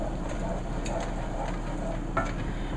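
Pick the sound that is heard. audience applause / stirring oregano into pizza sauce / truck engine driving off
stirring oregano into pizza sauce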